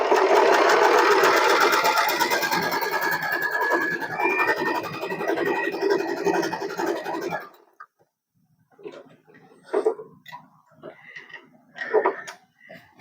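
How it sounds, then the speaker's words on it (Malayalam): Usha Allure DLX sewing machine stitching, a loud steady mechanical whir running continuously for about seven seconds, then stopping as a person speaks briefly in the quieter remainder. "കൂട്ടിയിട്ട് സ്റ്റിച്ച് ചെയ്യുന്നത് കാണിക്കാം."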